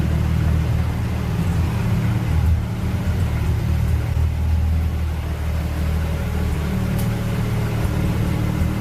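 A supercar on a street in Monaco rumbles with a low, steady engine drone heard from nearby, its level staying fairly constant and giving no clear sense of passing, with no voices over it.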